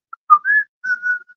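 A person whistles a short, bright tune of a few clear rising and falling notes, close and alone with no other sound around it.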